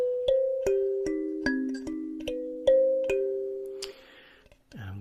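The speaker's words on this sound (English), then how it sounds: "this is an instrument called a kalimba" Plucked kalimba tines ring out one at a time in a slow, gentle melody of bright, bell-like tones that sustain and overlap, close and clear, before a short burst of speech at the end.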